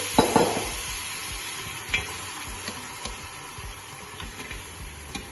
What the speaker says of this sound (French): Nous allons déglacer tout ça avec de l'eau. Et là, vous allez entendre un joli bruit.